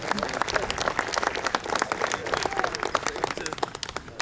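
Dense crowd applause at an outdoor Wild West show in Lone Pine, with many hands clapping continuously and a few sharper claps standing out from the steady roar.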